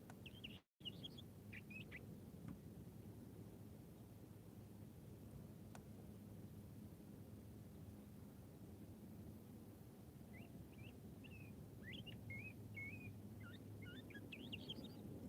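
Birds chirp and sing outdoors on a quiet morning, faint and somewhat distant, with short clusters of high calls at the start and a livelier burst near the end over steady background hiss.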